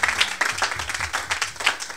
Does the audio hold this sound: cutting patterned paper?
no